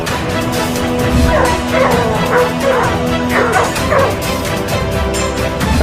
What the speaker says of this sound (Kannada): ಗುಂಪು ಗುಂಪಾಗಿ ದಾಳಿ ಮಾಡ್ತಿರೋ ರಾಕ್ಷಸ ರೂಪದ ಬೀದಿ ನಾಯಿಗಳು